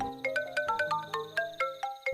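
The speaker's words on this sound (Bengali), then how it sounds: "এমন সময় ফোনটা বেজে উঠল।" A phone ringtone plays a bright, repeating melodic pattern of quick electronic notes, clear and close, with no talking.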